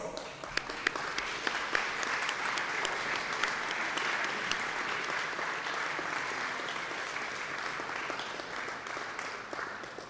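A conference hall audience at an AI event's opening ceremony applauds a delegation from Iceland, sustained even clapping from many hands throughout, moderately loud with occasional crisp individual claps standing out.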